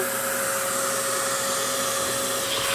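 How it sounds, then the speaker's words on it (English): A household vacuum cleaner runs close by with a steady, loud whooshing roar and a constant high whine, unbroken for the whole stretch with no voices. "He's scared of the vacuum."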